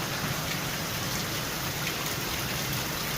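Heavy rain pours down in a Sonoran Desert garden, a constant dense hiss of drops striking surfaces, close and unbroken, with no voices.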